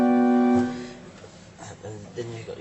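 A gamba stop on the church pipe organ of St Marys The Virgin, Radwinter, Essex, sounds a short, reedy, string-like chord that stops after under a second, followed by someone talking.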